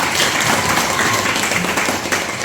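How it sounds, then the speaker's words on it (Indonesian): Classroom applause from a group of students, a steady dense wash of clapping that fills the whole stretch at close range with no clear speech. "Tepuk tangan untuk kita"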